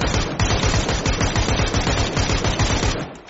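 Rapid sustained automatic gunfire in PUBG, a dense unbroken burst of loud, close shots lasting several seconds without pause.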